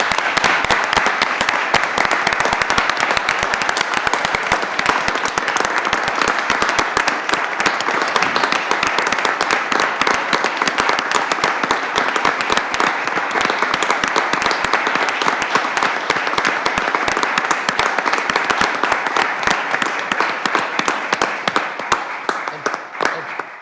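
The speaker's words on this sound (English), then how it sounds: "I think it would be appropriate for a round of applause." A round of applause at a village board of trustees meeting after a vote, dense sustained clapping from the assembled room, steady and loud for over twenty seconds, tapering slightly at the end.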